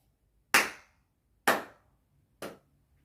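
Three slow, deliberate hand claps from a show presenter, sharp and close, spaced about a second apart with silence between, the last one softer.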